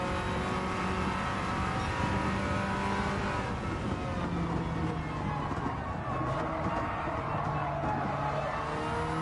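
A race car in Gran Turismo 7 drives a lap, its engine a continuous loud revving drone that rises and falls through gear changes, with faint tire squeal under the steady roar.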